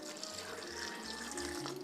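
Water poured from a tap into a blender jar over sliced turmeric and galangal, a steady close splashing trickle lasting under two seconds, with a faint low hum beneath.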